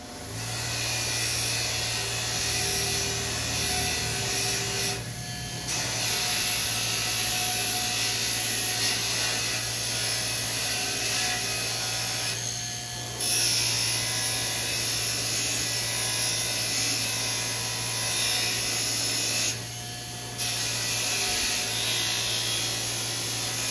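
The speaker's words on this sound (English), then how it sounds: "So I'm going to get this rust cleaned up on these brackets." A wire brush scours rust off metal brackets from an arcade control panel, giving a steady, loud, gritty whir that runs unbroken for over twenty seconds with a few brief pauses.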